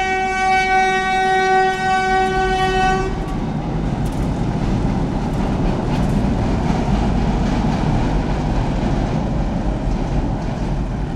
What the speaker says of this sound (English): the train is on the other side, yeah. Can you see that coming through there?